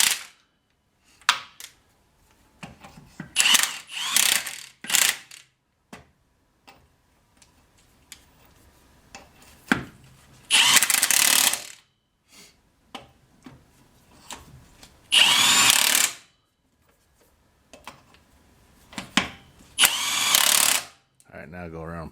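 A power tool snugs bolts on a diesel Suburban in short, loud, close bursts of whirring and rattling, separated by quiet gaps and bits of talk.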